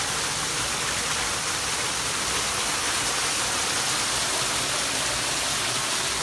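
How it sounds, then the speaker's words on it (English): Water pours over a built backyard hardscape waterfall without rebar, making a constant, full, close rushing roar with no pauses or voices. "this waterfall here is just, of course, it's the first one that we built"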